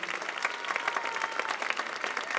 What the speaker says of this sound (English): give Paul Maffrey, our conductor, another round of applause in this wonderful, wonderful symphony presentation